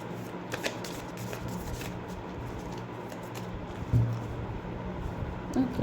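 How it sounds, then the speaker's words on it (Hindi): Tarot cards being shuffled by hand, a steady papery riffling and patter that runs close and continuous throughout, with a couple of slightly sharper flicks near the end. "Last shuffle."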